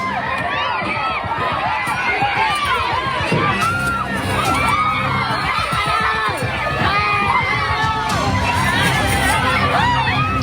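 Angry residents shout in panic while smashing a car and dragging its driver out of the cabin, a dense, loud crowd of overlapping yells and cries that runs continuously and close for the whole stretch.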